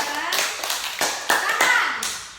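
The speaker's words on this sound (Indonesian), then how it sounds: "Tepuk tangan dulu. Tepuk tangan." In a classroom teaching session, children clap their hands in irregular sharp bursts, close and fairly loud, with an adult's voice speaking over the claps.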